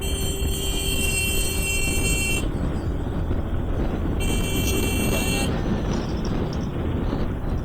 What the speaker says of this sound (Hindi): ये देखो हॉर्न दे रहे।